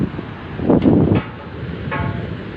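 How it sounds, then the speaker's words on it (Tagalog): Gusty wind buffets the microphone in low rumbling bursts at a high spot in Lingayen, Pangasinan, swelling strongly once and then settling into a steady blustery roar. "Nasa taas po ako, mahangin."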